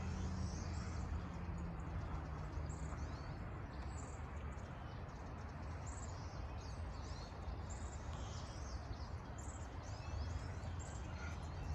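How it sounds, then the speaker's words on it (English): A flock of pine siskins, small finches, trills high in the trees on an early March birding trip around Vancouver, BC: faint, distant, buzzy zhee calls repeating over a steady wash of background noise. "These are pine siskins"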